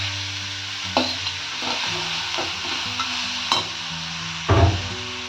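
Chopped bottle gourd tipped into a pan of frying onions, with a steady low sizzle and stirring, sharp clatters of the spoon on the pan near the start and a louder scrape-and-hiss toward the end.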